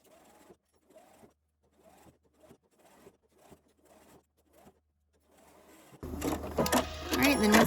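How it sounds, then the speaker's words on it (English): A home sewing machine stitches fabric for a circular bin, in a run of short bursts with pauses between them while the fabric is pivoted. It ends in a louder, continuous stretch of sewing. "My machine has a feature where I can push a button every time I lift my presser or my foot off the pedal."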